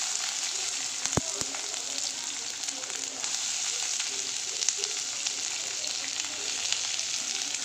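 Onions fry in oil in a wok with a steady, close, crackling sizzle that holds level throughout, broken once early on by a couple of sharp clicks.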